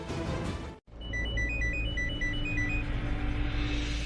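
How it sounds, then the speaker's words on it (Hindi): A mobile phone rings with an incoming call in a TV drama scene, playing a bright, repeating melodic ringtone of short high notes over a loud, steady background that continues throughout. "शर्लीन फोन कर रही है आपको, बात कर लो।"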